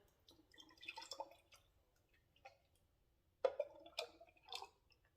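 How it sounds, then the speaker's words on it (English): Juice from a Nama J2 juicer poured into a jar, soft intermittent trickling and splashing with small clinks, close and quiet, no talk. "I am going to pour up each one. This is from the Nama J2"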